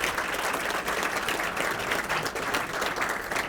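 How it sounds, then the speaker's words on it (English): Sustained applause from a luncheon audience at an awards ceremony, steady dense clapping filling the whole stretch at moderate volume with no talk over it. "Let's give them a round of applause"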